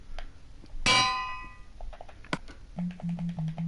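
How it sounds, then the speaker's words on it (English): A metallic anvil clang in a video game rings out sharply once, with a bright bell-like ringing that quickly decays, followed by a soft tap and low tones in the background. "That's why I heard an anvil."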